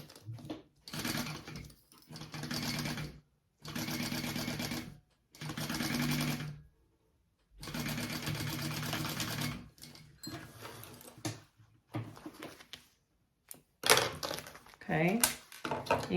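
Sewing machine basting fabric for a crossbody bag, running in repeated bursts of rapid stitching separated by short pauses, close and fairly loud, with brief talk between runs.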